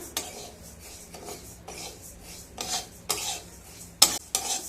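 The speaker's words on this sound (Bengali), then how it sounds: "প্রথমে ডালগুলোকে ভেজে নেব।" Moong dal lentils dry roasting in a pan, with repeated scraping strokes of a spatula stirring them, close and fairly faint, rasping at an irregular rhythm.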